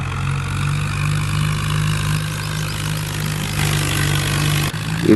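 A video game tractor engine, pulling three fully loaded trolleys up a slope, drones in a low, steady rumble that holds constant, with a slight surge near the end.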